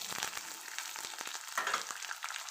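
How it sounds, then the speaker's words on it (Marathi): Onion, green chili and curry leaves sautéing in a pan for batata poha, with a steady close sizzle and light stirring scrapes throughout. "पूर्ण मी परतून घेते कांदा छान परतून झालेला आहे"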